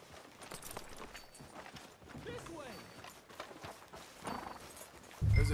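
Horse hooves trot in a steady clip-clop rhythm in Red Dead Redemption 2 beneath a busy layer of background noise, ending in a sudden loud low thump.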